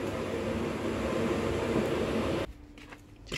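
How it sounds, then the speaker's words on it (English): A household tumble dryer runs as a steady, loud broadband drone for most of the moment, then cuts away abruptly to much quieter room sound near the end. "Tumble dryer is on, doing its thing."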